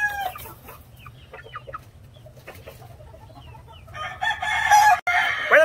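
A young Kelso-Asil cross rooster clucks and calls with short, scratchy crowing bursts, growing louder toward the end, with no talking.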